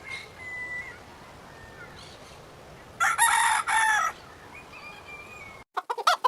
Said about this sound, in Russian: Это петух. Петух. Так выглядит петух.